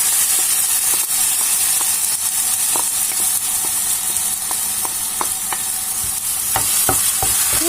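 Mushroom purée stirred into a pan of frying, caramelized onions, giving a steady close sizzle and hiss with scattered light scraping and stirring clicks throughout, no voices.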